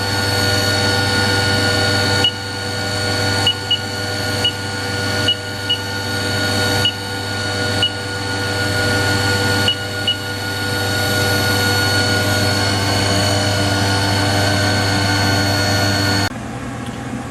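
A 2001 Haas Mini Mill CNC vertical machining center runs its spindle at steady speed, a loud tonal whine with a low hum, stepping up in pitch at intervals with faint ticks before dropping off near the end.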